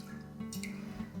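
Water is poured from a glass jar into a pot while home-canning cherries in light sugar syrup, a soft continuous trickle and splash over a low background hum.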